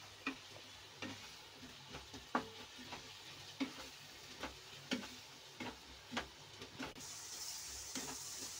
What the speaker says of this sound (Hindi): और इसे मैं भून लूंगी अच्छे से प्याज को।